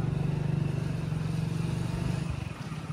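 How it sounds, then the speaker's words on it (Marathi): A motorcycle engine idles steadily nearby with a smooth, even rumble that fades slightly toward the end, and no voices are heard. "याला नुसतं बाईक फिरायला पाहिजे काय रे युवान."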